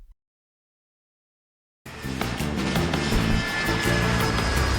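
After a short silence, an airplane in a film suddenly fills the scene with a steady, loud engine drone that holds to the end.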